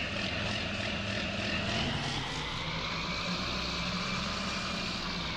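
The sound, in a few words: tractor engine running, from a video game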